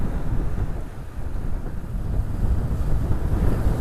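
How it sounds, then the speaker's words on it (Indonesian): Big sea waves rolling and crashing with strong wind buffeting the microphone near the coast at Banda Aceh, a dense continuous low roar with no speech. "Jadi ombaknya besar ya."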